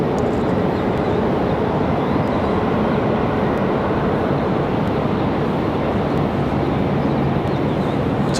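A Frontier Airlines jet heading out at Raleigh-Durham airport, a steady broadband roar of engine and airflow holding even and loud for the whole stretch with no pauses.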